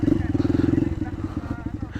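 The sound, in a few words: Honda CRF motorcycle engine struggling uphill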